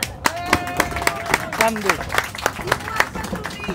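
A small audience applauding a 67-year-old man: sparse, evenly spaced loud claps in a steady rhythm, close by, with people talking and laughing over them.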